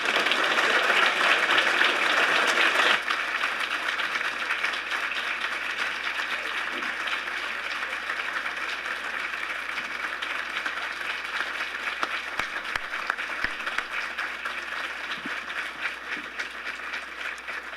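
Audience applause in a conference room at an education convening, a sustained, even wash of clapping from many hands that stays steady and fairly loud throughout, slightly fuller at the start.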